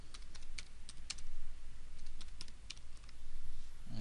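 Keys clack on a computer keyboard as a comment is typed for a failed test in Microsoft Test Manager with Visual Studio 2013, giving close, irregular bursts of keystrokes with short pauses and no voice.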